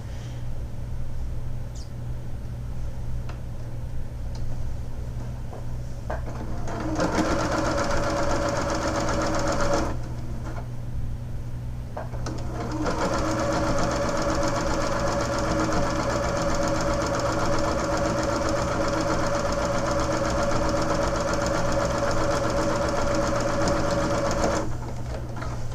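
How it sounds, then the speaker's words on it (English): A sewing machine runs in two bursts, stitching leftover quilt binding with a steady mechanical whir and hum that stops briefly before starting up again for a longer run; no one talks. "let's switch back to the sewing machine"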